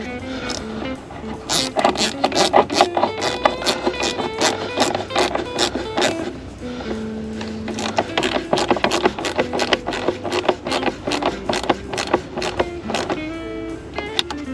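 A ratchet tightens a 5.5 mm bolt on a 2025 Honda Civic Sport 2.0, giving a long run of rapid, loud, close clicking bursts in steady repeated strokes with no talk.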